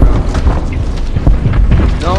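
A grenade explodes in the Animal Company video game, a loud rumbling boom with crackling debris that fills the whole short stretch, while players talk over it.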